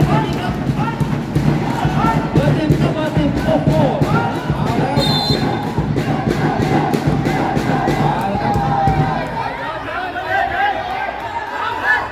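Spectators cheer loudly and without a break at a community futsal final in Prawet district, while a commentator talks over the noise and a ball bounces now and then.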